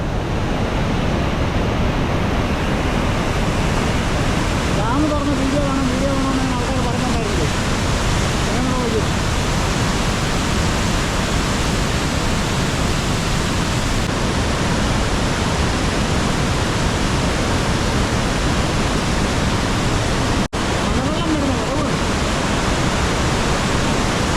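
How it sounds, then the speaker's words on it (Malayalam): Water roars through a half-opened dam in rainy Idukki, a loud, continuous, dense rush that fills the whole scene without letting up, with a faint voice briefly audible beneath it. "ഡാമിൻ്റെ ഒരു പകുതി ഭാഗമാണ് തുറന്നുവിട്ടിരിക്കുന്നത്"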